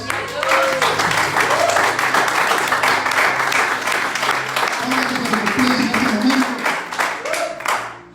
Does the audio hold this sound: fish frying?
no